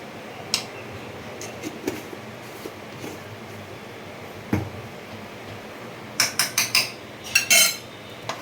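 Ghee is stirred into a Bengali potato curry, aloo kanta chorchori, in a pan after the gas is turned off: sparse metallic taps and scrapes over a low background, then a quick cluster of clinks near the end.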